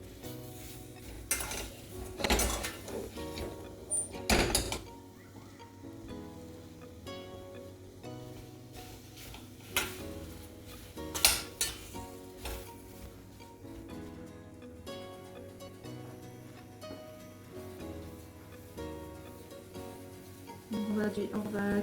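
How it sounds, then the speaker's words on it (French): Apples with a pinch of vanilla being stirred in a cooking pot for an apple and peach pie filling: scattered metallic clinks and scrapes of a spoon against the pot, some sharp and close, over a steady low background drone. "On va mélanger."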